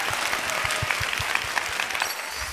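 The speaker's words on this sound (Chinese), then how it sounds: "先给自己一个辛苦的掌声" Contestants standing on stage at a televised singing competition clap together, producing a steady, dense patter of applause that holds evenly for the whole stretch, with no voices over it.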